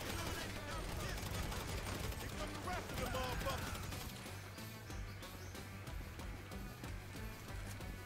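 Rapid bursts of gunfire in Grand Theft Auto V crackle among busy game sounds, fairly quiet overall.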